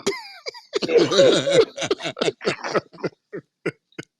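A burst of coughing and sputtering, harsh at first and then trailing off into a string of short, separate coughs and laughing breaths.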